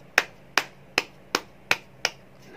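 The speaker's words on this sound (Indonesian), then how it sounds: "biasanya tisunya saling-saling nempel, kita tepuk-tepuk aja begini" Hands patting a stack of cut tissue paper while making moka pot filters, six sharp evenly spaced pats, close and crisp, each decaying quickly into quiet.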